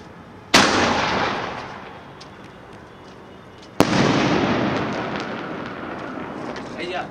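Dil Deewana Diwali sky shot fireworks go off outdoors: two loud, sharp launch bangs about three seconds apart, each followed by a long crackling, hissing roar that slowly fades.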